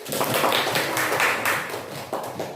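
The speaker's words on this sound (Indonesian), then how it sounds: "Tepuk tangan dulu Rizka dulu" A classroom of students clapping for a classmate after her presentation on news texts, a dense burst of hands fairly close, swelling and then thinning toward the end.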